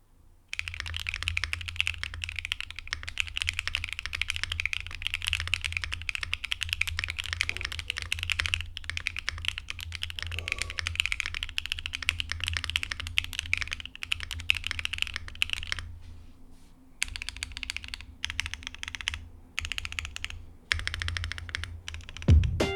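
Steady, rapid clacking of a 75% Mode Sonnet mechanical keyboard being typed on, close and even, with a brief pause before the keystrokes resume.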